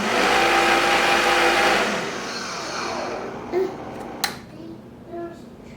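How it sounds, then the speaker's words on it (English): Blender whirring loudly as it mixes basil, nuts, salt and pepper for homemade pesto, running steadily for about two seconds before cutting off, followed by a few faint clicks and knocks. "some nuts, some salt and pepper into a blender, mix those things up, add our olive oil"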